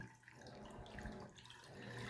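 Pickling lime mixed into water being poured over eggs in a half-gallon glass jar, a soft steady liquid pour with gentle splashing, fairly quiet and uninterrupted throughout.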